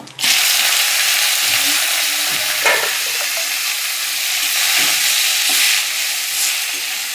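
Steady loud sizzling of drumstick greens frying in a pan with poppy seeds, with occasional scraping and stirring sounds throughout.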